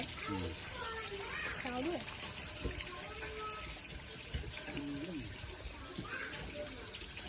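Water runs and trickles steadily while being changed in a small home-built fish pond outdoors, with people, including a child, talking throughout over the flow.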